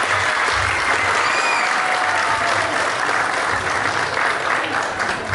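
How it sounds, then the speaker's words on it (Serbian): A crowd at a village folk gathering in Crna Bara applauds folk dance ensembles, loud sustained clapping that fills the space evenly throughout, with a few faint voices and a high whistle mixed in. "Sad možemo jedan aplauz za sve."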